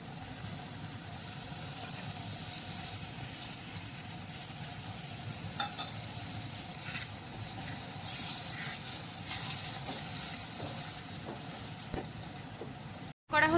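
Poppy seed paste for Bengali aloo posto sizzles steadily in a hot pan, a dense, continuous frying hiss with a few soft stirring scrapes, ending abruptly.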